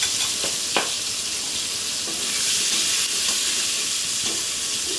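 Pointed gourd (potol) and potato fry in a pan with a steady, bright sizzle, broken by a few soft scrapes and clinks of stirring.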